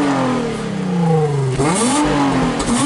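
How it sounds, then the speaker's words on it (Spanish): Nissan 350Z with Nismo kit and 3.5-litre V6 revving up loud and close, the engine note climbing, dipping briefly, then rising again in a sharp, sustained rev. "Nos van a acelerar el coche para que veáis el ruido que hace el"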